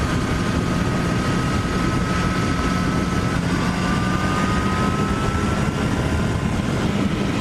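A Kawasaki ZX-10R with its stock exhaust runs at speed on the road, giving a continuous, loud engine drone with a faint rising whine, mixed with heavy wind rush.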